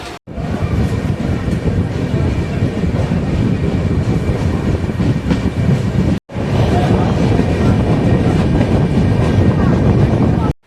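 KSR Bengaluru Mail Express running between Kottayam and Erode, a loud, steady rumble of wheels and carriage noise filling the clip, broken by one brief cut near the middle.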